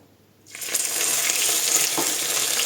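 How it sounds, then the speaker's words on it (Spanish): Water splashed into hot homemade caramel for a flan, off the heat, bursts into a sudden sharp sizzle that stays strong and bubbling for a couple of seconds, close up with no talking. "con el fuego apagado y mucho cuidado vamos a echarle 2 cucharadas de agua"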